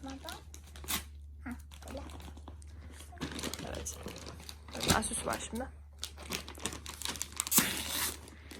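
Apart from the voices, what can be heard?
crinkling of a plastic gift bag being opened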